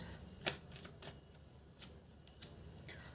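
Tarot cards are shuffled and drawn from the deck, producing soft, scattered flicks and papery snaps with one sharper slap. The sounds are quiet and close, with no speech.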